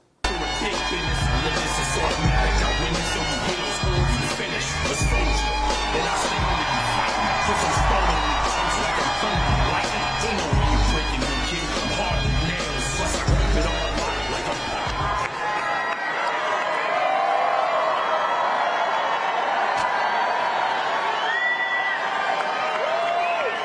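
A large crowd at a Trump rally in Madison Square Garden claps and cheers in a loud, sustained wash of applause and shouts, easing into a thinner, quieter crowd murmur toward the end.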